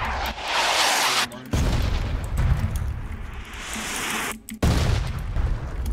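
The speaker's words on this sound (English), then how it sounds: "I just got killed by a mortar?" A mortar shell detonates in PUBG, a loud, sustained roar of blasts and rumbling debris filling several seconds, broken by two abrupt cutoffs before the noise surges back.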